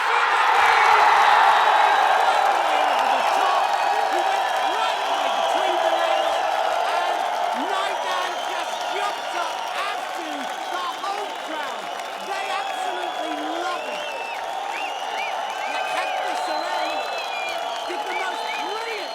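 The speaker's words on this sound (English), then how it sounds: "The crowd is baying for the 4th penalty." Loud judo arena crowd at the Ulaanbaatar Grand Prix roaring continuously, a dense wall of shouting, whistles and cheering that swells at the start and stays sustained throughout.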